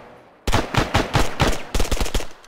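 Loud, close bursts of rapid automatic gunfire from the video game Antistasi, several volleys in quick succession with a brief pause between them, no voices.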